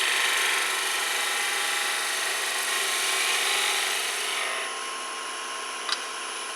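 Wood spindle spinning on a lathe while a skew chisel cuts it, a steady bright shearing hiss that holds evenly, then drops slightly quieter near the end with a brief tap.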